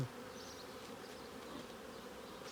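Honey bees in a package hive give off a dense, steady buzzing drone, close and unbroken, with no voices heard.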